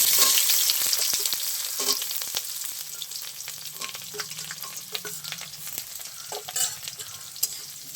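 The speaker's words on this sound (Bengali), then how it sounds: "পেঁয়াজটা একটু লাল লাল করে ভেজে নেব" Chopped onion fries in a pan after cumin seeds have toasted, giving a continuous close sizzle with frequent sharp scrapes and taps of a spatula stirring against the pan.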